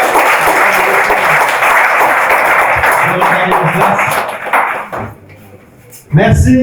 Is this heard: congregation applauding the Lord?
yes